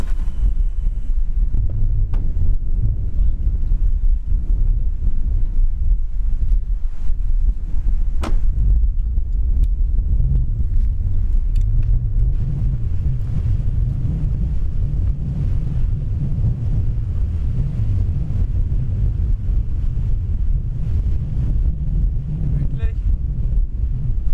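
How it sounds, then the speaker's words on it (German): Strong, cold wind in Iceland buffets the microphone in a constant low roar for the whole stretch, with a faint wash like surf underneath. "Es ist sehr windig und kalt."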